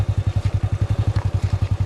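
Honda 100 underbone motorcycle on a dirt trail, its single-cylinder engine thumping in a fast, even, regular beat, close and fairly loud throughout the short stretch.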